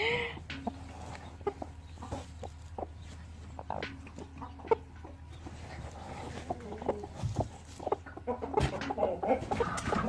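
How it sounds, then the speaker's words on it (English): Broody Americana hen clucking close by in a run of short, irregular clucks and squawks over quiet background, growing busier toward the end. "It's my other Americano broody. She's pecking at me too."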